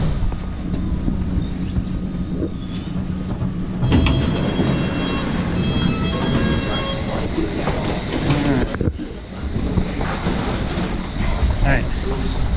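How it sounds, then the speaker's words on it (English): A train rumbles and clatters as it pulls into a station in Oxford, England, with squealing wheels and steady rail noise throughout, some brief voices in the background. "I think I hear our train coming right now"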